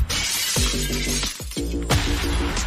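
Glass shatters in several loud, sharp crashes, each burst trailing into tinkling fragments, with a final big smash near the end; no voices over it.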